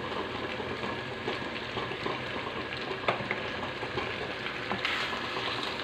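Longganisa sausage sizzles and fries in a pan with ketchup while being stirred, a steady dense crackle with occasional utensil scrapes and knocks close by, no talking.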